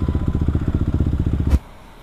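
A Kawasaki KLX supermoto bored up to 450cc runs on a Bandung street, its single-cylinder exhaust thumping in a fast, steady pulse before cutting off abruptly, leaving near silence.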